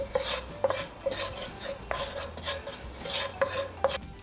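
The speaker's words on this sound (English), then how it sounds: "Over medium-low heat, constantly stir until it is lightly browned, 5 minutes." Glutinous rice flour stirred in a pan over medium-low heat while it browns for snow skin mooncakes: a steady scraping, rasping sweep with sharp utensil clicks against the pan at irregular intervals, close and fairly clear, no talk.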